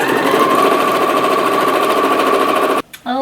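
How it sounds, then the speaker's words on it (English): A sewing machine runs a steady straight stitch through thrifted skirt fabric, a loud, fast, even mechanical chatter that stops abruptly, followed by a brief voice. "I'm just going to straight stitch."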